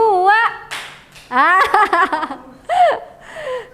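Schoolchildren in a classroom do a rhythmic counted clap, sharp claps falling in time with their chanting voices, loud and close.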